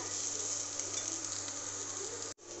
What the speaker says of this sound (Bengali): এখানে ভাজি দেখো আলু দিয়ে উস্তে দিয়ে একটু পেঁয়াজ দিয়ে বানাচ্ছি